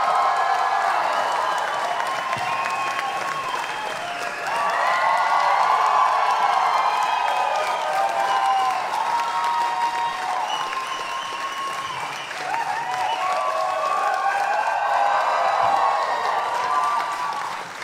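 A theatre audience at a Depeche Mode event in Berlin bursts into sustained applause with cheering and whoops. The dense, loud clapping rolls on steadily, swelling in places, with no clear talk over it.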